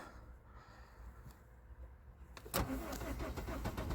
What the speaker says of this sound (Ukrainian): І автомобіль погано заводиться.